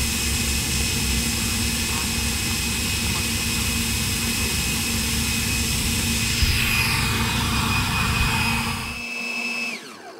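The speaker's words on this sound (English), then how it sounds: "This Viper jet turns on a dime." A Black Horse Viper RC jet with a 100 mm electric ducted fan flies past, a loud sustained high-pitched whine with a droning tone that shifts in pitch before cutting off near the end.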